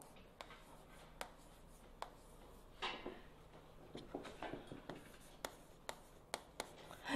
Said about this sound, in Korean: 제가 잠깐 여기다가 숫자 몇 개만 하나 써볼게요.